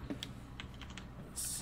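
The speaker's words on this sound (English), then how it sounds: "Yep, those are definitely keyboard clicks." Quiet, scattered computer keyboard clicks tap out a few irregular keystrokes, faint and close, with a brief high tone at the end.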